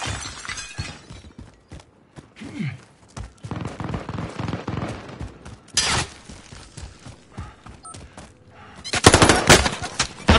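Bursts of video game gunfire and shattering impacts in a shooter match, repeated rapid shots through most of the stretch with a loud, dense barrage near the end.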